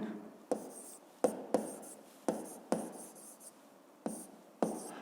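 Writing on a board during a seventh-grade physics lesson: a series of sharp strokes and taps in an uneven rhythm, each followed by a brief scratchy trail, close and fairly quiet, with no voices.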